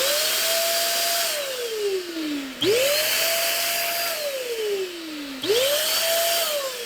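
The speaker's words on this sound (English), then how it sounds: "I'm going to go ahead and turn it on a few times so you can hear." A SIN SHINE Compressed Air 3.0 blower is switched on three times in a row. Each time its loud motor whine surges up, holds, then winds down in a falling pitch before the next start.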